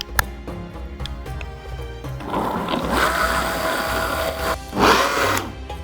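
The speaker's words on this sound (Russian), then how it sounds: "Мы же будем использовать блендер, а вы смотрите по ситуации." Kitchen blender whirring as it purées lunch ingredients, a rough buzzing run of a few seconds followed by a short second burst, close and alone.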